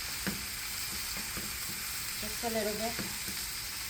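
Vegetables sizzle in a hot pan while a wooden spoon stirs them, giving a constant crackling hiss with soft knocks and scrapes. A brief voice speaks partway through.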